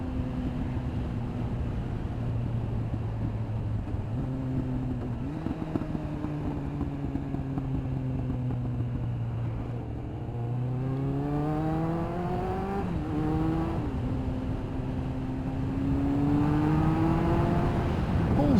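A Kawasaki ZX9R motorcycle engine drones steadily under a rider, holding a low rev note, then climbing through gears with rising pitch and dips at each shift, loud and continuous with wind noise.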